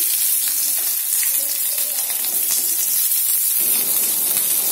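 Onions frying in hot oil with dried chilli, cinnamon, cardamom and cumin give a loud, dense, continuous sizzle and crackle, close up and steady throughout with no talking.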